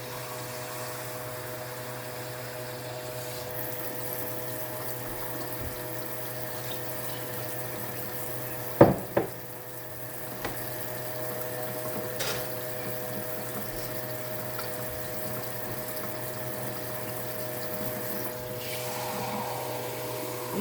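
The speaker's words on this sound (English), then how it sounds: "Gonna add your little bit of water to it." Water runs from a tap into a pot of homemade chilli, a faint continuous rushing flow over a low steady hum, broken by a couple of sharp knocks partway through.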